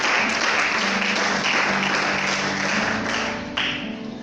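A church congregation applauding, a dense, loud, steady wash of clapping that thins slightly toward the end.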